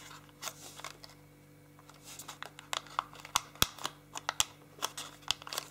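Paper is folded and creased by hand for an origami rose, a series of faint, close, crisp crinkles and sharp snaps growing busier toward the end, with no speech.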